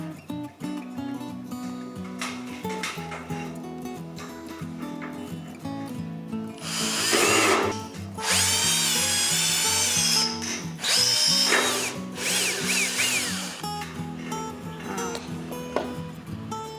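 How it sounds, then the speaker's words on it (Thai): A power drill bores holes through the wooden frame of a handmade faux fireplace, whining loudly in a few bursts over a quieter background of handling noise. "ก็เดี๋ยวเราจะทำการเจาะรูตัวโครงข้าวของเรานะคะ"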